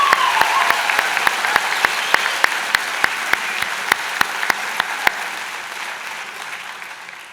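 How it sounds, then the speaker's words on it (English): A convocation audience applauds the graduating class at a business school ceremony, with dense clapping that holds steady and then thins toward the end. "how about a round of applause for the graduating class of 2019?"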